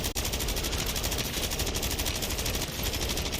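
Rapid automatic gunfire in Call of Duty: Modern Warfare III zombies mode, a dense, continuous loud burst of shots with no break across the whole stretch.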